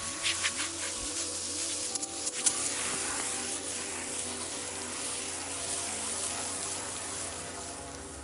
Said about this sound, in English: Let's go spray them off.